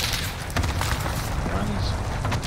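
Call of Duty Warzone gunfire on Rebirth Island, a dense, loud stretch of rapid shots and booms with constant battlefield noise, with a voice talking over part of it.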